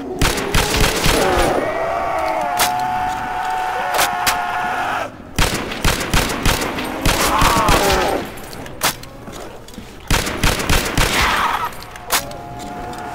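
Bursts of rapid automatic gunfire in a zombie video game, loud sharp repeated shots in clusters separated by short pauses, with brief clicks and game effects between volleys.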